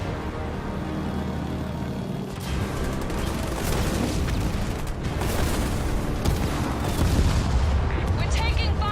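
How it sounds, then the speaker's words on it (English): Artillery fire and explosions in the Halo Wars 2 battle, a dense barrage of booms and gunfire layered over one another, loud and sustained, with heavy detonations near the end. "The Banished have sent in artillery."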